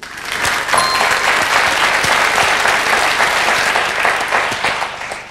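Loud, sustained applause from a television quiz show audience, steady and even in intensity, swelling in at the start and tapering slightly at the end.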